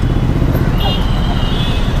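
Busy Mumbai road traffic heard from a motorcycle, a dense rumble of engines and passing vehicles with a brief higher whine, close and loud throughout.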